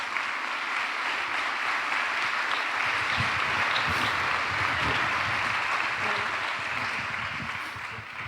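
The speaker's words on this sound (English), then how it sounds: "Big round of applause." A large convention plenary crowd applauds panelists being called to the stage, sustained, even clapping from many hands over eight seconds, with some low rumble and movement underneath.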